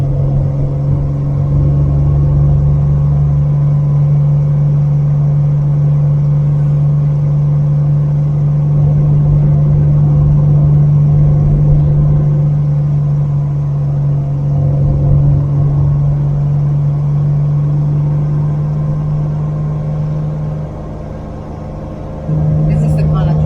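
A 1949 Rover P3 drives through the Adelaide Hills, its low engine drone steady from inside the cabin, with pitch shifts as it changes gear and people talking over it.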